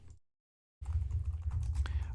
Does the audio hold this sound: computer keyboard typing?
yes